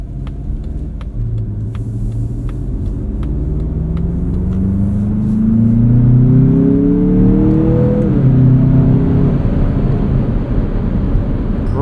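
A 2024 Mazda CX-50 Meridian Edition's turbocharged 2.5-liter engine accelerates hard, its loud rumbling drone climbing in pitch through the gears over constant road and cabin noise, with no talking.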